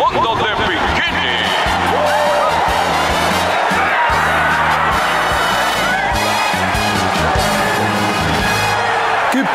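A cartoon crowd of football fans cheers and whoops loudly and continuously for a band in a stadium, a dense, steady roar from start to finish.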